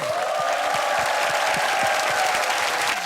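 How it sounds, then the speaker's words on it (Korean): Studio audience applause on a Korean army-unit variety show, a steady, loud wash of clapping from a crowd filling the whole moment with no voices on top. "박수 한번 보내주세요."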